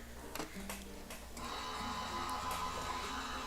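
A Gemini Junior foil press machine starts up and runs with a steady mechanical hum and whir, a few faint ticks at first, then a constant motor drone, quiet and close.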